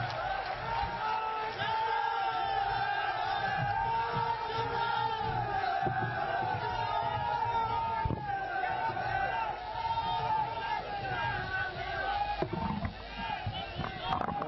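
A political rally crowd welcomes Chief Minister Ashok Gehlot with a continuous roar of cheering, shouts and clapping, sounding muffled and band-limited, with voices over the noise throughout.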